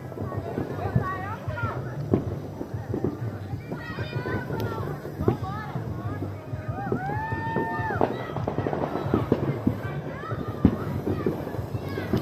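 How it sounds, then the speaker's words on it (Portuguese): A New Year's Eve fireworks display in Japeri, with scattered pops and crackles over a constant rumble, while people talk and exclaim close by throughout. "E agora vai, ó. Queima de fogos."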